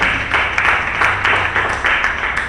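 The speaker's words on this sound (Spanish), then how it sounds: "Démosle palmas fuertes." A church congregation claps together in brisk, fairly even rhythmic applause, many hands beating a steady pulse that fills the room at close range.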